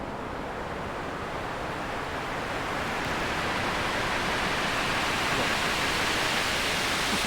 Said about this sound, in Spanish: solamente empleamos un módulo de ruido, un filtro, un LFO lento y dos delays